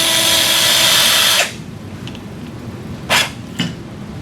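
A radial core drill with a 2.7 mm shank, driven by a standard pin driver attachment into a sawbones wrist model, whirs loudly for over a second, then stops, followed by a few short clicks and knocks.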